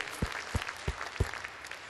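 A church congregation claps in thanks during a worship service, four sharp hand claps spaced evenly apart, followed by scattered softer clapping from the crowd.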